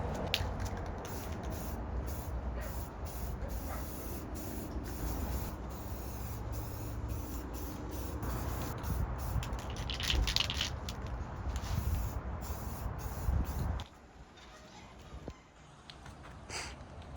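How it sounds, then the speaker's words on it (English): Rust-Oleum flat black spray paint hisses steadily from an aerosol can onto a Suzuki Samurai hard top, a continuous close spray with brief pauses, ending in a quieter stretch. "Just gonna use some Rust-Oleum flat black, and I'm gonna spray this sucker down."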